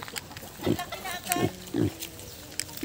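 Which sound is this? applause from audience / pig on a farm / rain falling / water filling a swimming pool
pig on a farm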